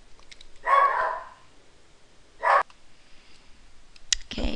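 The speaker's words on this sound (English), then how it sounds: "Charlie decided to bark at someone." A dog named Charlie barks two separate times at moderate distance, short bursts spaced over a couple of seconds, with a clatter of clicks afterward in an otherwise quiet room.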